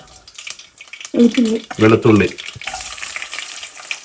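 Mustard seeds crackling in hot oil in a home kitchen, a steady sizzle and light popping running throughout, partly under a voice talking nearby.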